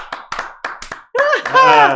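A few sharp, close hand claps sound in an uneven rhythm on a talk show, and then a voice breaks in with drawn-out speech.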